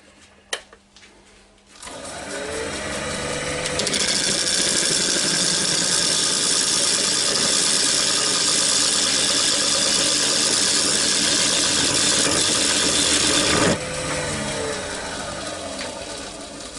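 A wood lathe spins a walnut bowl blank while a small square-tipped carbide cutter works across it, giving a steady, loud whirring hum with cutting noise for about twelve seconds before it eases off.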